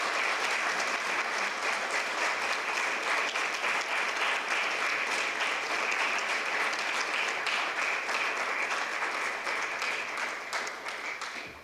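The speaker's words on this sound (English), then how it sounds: "You deserve a good applause." Audience at a state senate candidate forum breaks into sustained applause, a dense, even roar of many hands clapping that holds steady and then begins to taper off near the end.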